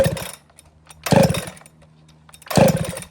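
A chainsaw engine fires up three times in short loud bursts, each catching briefly and then dying back to near silence, close by.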